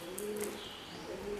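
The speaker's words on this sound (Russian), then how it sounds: "Слышите, как голуби?" Pigeons coo softly in a low, throaty rhythm heard outdoors on a morning walk in Spain, with a few faint chirps from other birds in the background and no talking.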